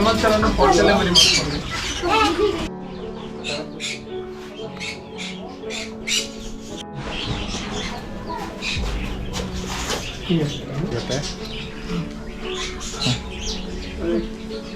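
Parrots squawk and chirp repeatedly, sharp harsh calls scattered across the clip over a steady background murmur.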